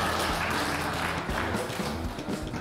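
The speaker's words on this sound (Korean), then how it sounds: "박수 많이 쳐 주세요." Studio audience on a Korean TV variety show clapping in a brief, moderately loud burst of steady applause without talk over it.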